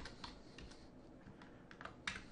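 Fingers type on a computer keyboard, entering text into a title: quiet, close, irregular key clicks in small bursts, with one louder keystroke near the end and no voices.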